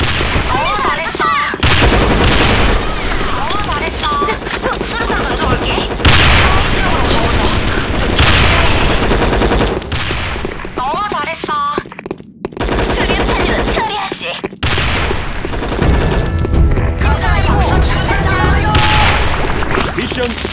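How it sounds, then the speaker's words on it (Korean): Rapid automatic gunfire and explosive bursts from the Sudden Attack online shooter fill the mix almost continuously, loud and dense, with a grenade blast among them, brief gaps and game voice lines over the top. "수류탄 던져올게."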